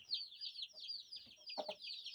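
A hen clucking close by, a run of short high calls with a louder burst of clucks near the end.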